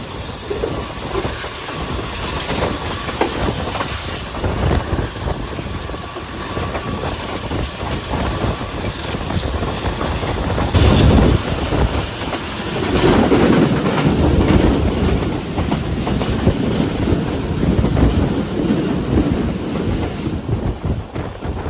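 A train rumbles along a rail track on a main line where sleepers were freshly replaced and ballast laid, a steady broad roar with clattering that swells midway and holds loud to the end.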